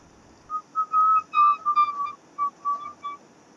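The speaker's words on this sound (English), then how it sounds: "I heard that whistling, unless somebody else was whistling." Someone whistles a short melodic tune, around ten clear notes in uneven phrases, moderately loud against a quiet background with no talking.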